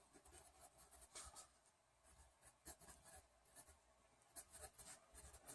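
A pen scratches out a math formula, an integral, on paper, with soft rapid strokes and small taps in uneven bursts, close and quiet.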